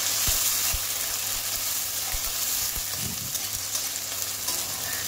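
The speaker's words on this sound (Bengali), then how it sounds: "এবার ভালোভাবে কষিয়ে নেব" Spice masala frying in oil over low to medium heat while being stirred: a steady close sizzle broken by repeated spoon scrapes and knocks against the pan.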